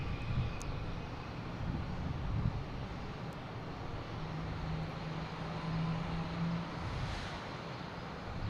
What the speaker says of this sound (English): we got JetBlue coming in from Nashville at A220.